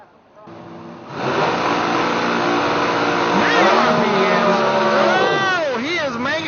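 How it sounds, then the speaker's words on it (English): A hot rod drag racing car roars down the strip at a Spring Shootout event in Holly Springs, Mississippi, its engine climbing from a low idle into a loud, sustained howl with sweeping pitch changes as it revs hard. "he is making the hot rod pay for it right now"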